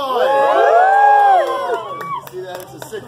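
A crowd cheers and whoops loudly at an alligator show on Jungle Queen Island, with rising shouts that fade into scattered claps and voices.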